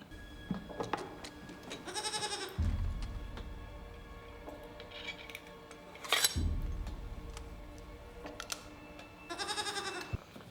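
A goat in a tense Severance scene bleats in three loud, drawn-out calls spread across the clip, with faint clinks of dishes and metal utensils sounding in the quieter gaps between cries.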